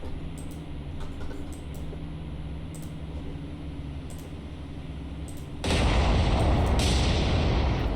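Battleship guns fire and shells land in the naval combat game War On The Sea, with scattered distant booms over a steady rumble, then a sudden louder roaring blast that persists to the end.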